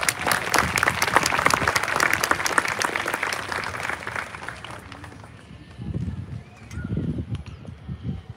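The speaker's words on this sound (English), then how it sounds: "Let's give her a big round of applause." Graduation audience applauding at a class of 2022 ceremony: dense, loud clapping from a large crowd for about five seconds, then fading into quieter murmurs and scattered sounds.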